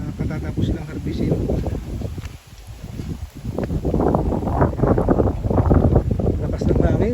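Strong wind gusting past rice paddies buffets the microphone in a steady rough roar that dips briefly midway, with a person talking over it.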